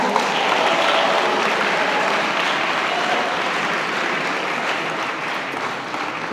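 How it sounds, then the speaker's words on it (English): Audience at a Black History Month event giving a round of applause, dense steady clapping that fills the room and fades slightly toward the end. "I've got to say they need a round of applause as well."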